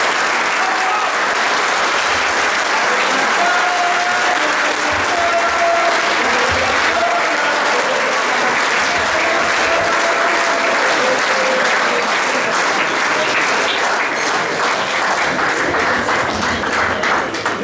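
Sustained audience applause fills a hall at a 50th anniversary celebration of the 1974 championship, dense steady clapping throughout with a faint murmur of crowd voices beneath it.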